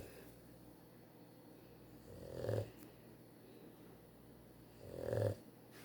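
A lazy dog lying down and snoring softly, with two slow, nasal snores a few seconds apart over quiet room tone.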